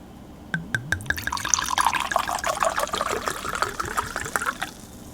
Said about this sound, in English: this is the part of the show where you're supposed to put your volume all the way up, because here comes the pour